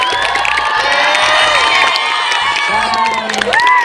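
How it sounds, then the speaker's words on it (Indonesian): A school assembly crowd cheers and shouts loudly, with high excited voices whooping over a brief burst of clapping. "tepuk tangan untuk Bu Saidah"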